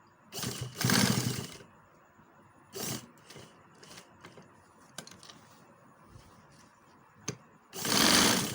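A sewing machine stitches a kurta with tariz panels in three short whirring bursts, the longest at the start and the last at the end, separated by quiet pauses with small clicks and fabric handling.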